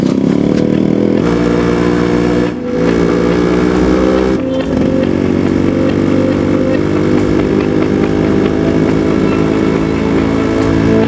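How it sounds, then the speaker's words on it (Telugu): A motorcycle engine drones loud and steady for the whole stretch, with no clear fade as it moves off. "నా బైక్ తీసుకెళ్ళిపోతున్నావు రే."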